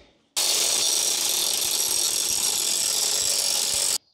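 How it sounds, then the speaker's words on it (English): A grinding wheel cuts into a steel tab on a Mopar A-body frame, a loud continuous abrasive screech that starts abruptly, holds steady for about four seconds and then stops. "We're gonna use the grinding wheel for that."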